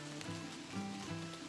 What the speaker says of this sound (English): So I'm off on this trail and it's still raining